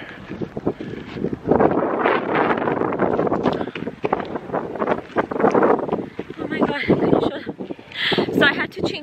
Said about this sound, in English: I don't know if you guys can hear, but it is windy.